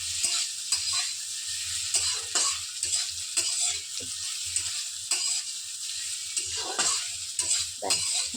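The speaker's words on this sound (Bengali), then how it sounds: "পনিরগুলোকে একটু লাল লাল করে ভাজা করে নেবো" Cubes of paneer fry in peanut oil in a pan, a continuous bright sizzle close up, broken by repeated stirring scrapes and clicks of a spatula, with no talking.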